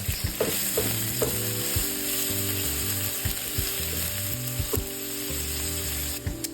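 Onions sauté in a pan with a steady close sizzle, and a spoon stirs and scrapes them now and then, knocking lightly against the pan. No one speaks over the cooking.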